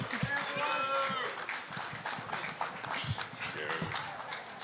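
Crowd clapping and cheering fills the room, a steady wash of applause with shouts and voices mixed in.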